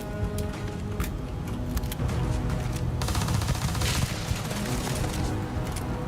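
Enemies in Starfield shooting radioactive weapons, with bursts of crackling energy fire and sharp shots layered over a dense, loud rumble of combat, continuous throughout.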